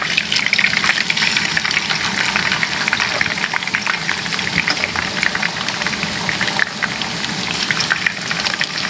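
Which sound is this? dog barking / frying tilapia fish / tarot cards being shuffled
frying tilapia fish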